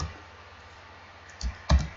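Quiet room tone, then a few sharp keyboard clicks near the end, like brief typing on a computer keyboard close by.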